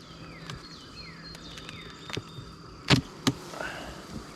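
Honey bees buzz faintly and continuously around a beehive as an escape board is removed, with a few sharp knocks and clatters of the hive gear standing out near the middle.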